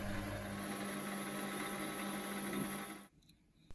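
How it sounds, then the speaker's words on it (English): A drill runs steadily through a mini lathe spindle lock bracket, giving a continuous loud whirring hum for about three seconds before cutting off to near quiet. "Drilling the bracket holes."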